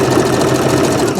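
A sewing machine stitches a circle skirt with a fast, continuous mechanical whir and rapid needle chatter, close and steady throughout.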